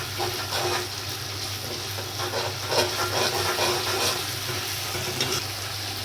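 Leftover water from boiled rajma (kidney beans) is poured into a pan, giving a steady splashing, sizzling rush that carries on evenly throughout at moderate loudness.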